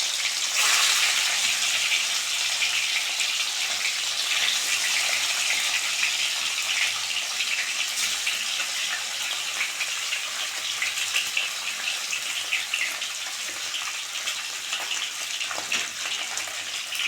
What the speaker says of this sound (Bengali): মাছের এক পাশটা ভাজা হয়ে গেছে, অন্য পাশটা আবার ভালো করে ভেজে নেব।